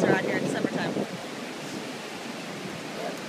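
Ocean waves wash in at the beach in a steady roar, with wind buffeting the microphone and a brief splash of voices at the start.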